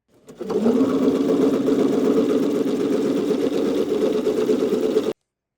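A sewing machine with a narrow gathering foot stitches a ruffle at tension 6 and stitch length 4. The motor starts, then runs at a steady, loud, even whir for about five seconds before stopping abruptly.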